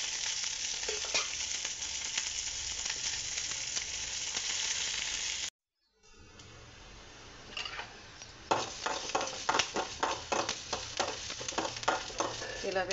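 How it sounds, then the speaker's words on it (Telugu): Oil sizzles steadily in a frying pan, then after a brief silent gap the frying resumes more quietly as rhythmic scraping stirs clatter against the pan, close up. "వేగేటప్పుడు కొంచెం ఆయిల్ వేయాలి,"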